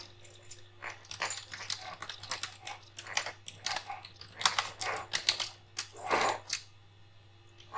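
Keys tapped in irregular bursts on a computer keyboard while text is entered in LibreOffice Writer, close and fairly quiet, with short pauses between clusters of presses and a steady low hum underneath.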